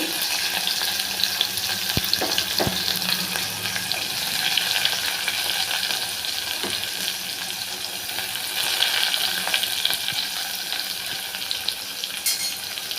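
Steady broadband sizzling of onions frying in oil for dry fish curry, continuous and fairly loud throughout, with a few faint clicks of a utensil.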